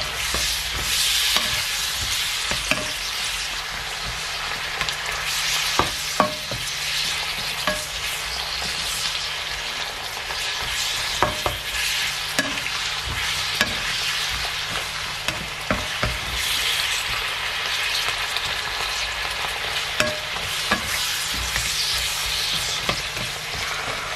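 Beef ox cheek stir fry with red and green peppers sizzles steadily in a hot pan, a continuous loud frying hiss broken by frequent clicks and scrapes of stirring, with no talking.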